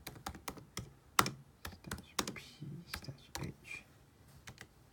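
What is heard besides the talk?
typing a MySQL command on a computer keyboard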